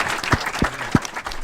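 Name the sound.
applause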